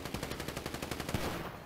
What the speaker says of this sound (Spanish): Ya están pegando tiros.